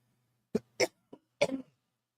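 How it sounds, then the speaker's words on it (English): A person with a lung problem coughs while smoking cannabis: four short, dry coughs in quick succession, close and alone, with the last one longer and rougher. "I was coughing like this before I started smoking"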